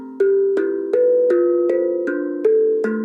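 A steel tongue drum cut from a single piece of metal rings out eight evenly spaced, sustained tonal notes, each a clear bell-like strike that overlaps the last in a steady melodic run, close and moderately loud.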